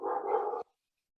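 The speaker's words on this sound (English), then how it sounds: "you might hear my dogs barking in the background" A single dog bark rings out, a sustained yelp of just over half a second that stops abruptly, heard in the background of an indoor conversation with no speech during it.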